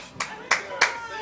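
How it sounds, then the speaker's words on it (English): Three sharp, isolated hand claps from spectators at a four-wall handball semifinal match, spaced about a third of a second apart, crisp and fairly close against a quiet court. "There's a random clap from the crowd."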